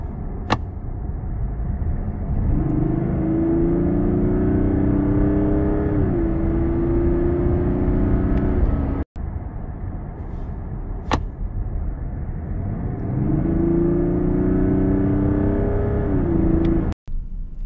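A Mazda CX-60 with a 3.3-litre inline-six diesel and rear-wheel drive accelerates hard after coasting, its engine droning steadily, rising in pitch through each gear, then dropping briefly at the shifts. The run repeats twice, close and loud, with no talking.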